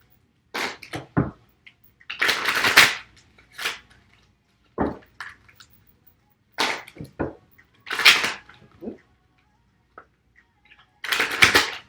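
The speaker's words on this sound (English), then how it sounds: "Still like to shuffle a little bit on camera." Short riffling bursts of a deck of cards being shuffled, repeated in irregular spurts with quiet gaps between them, close up.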